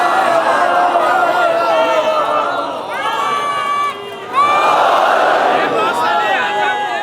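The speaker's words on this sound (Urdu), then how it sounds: "معذرت کے ساتھ جتنے نعرے لگ رہے ہیں سن لیجیے گا" A large crowd at a Muharram majlis raises loud shouted slogans, close and energetic, with overlapping voices swelling, briefly dipping near the middle, then surging again.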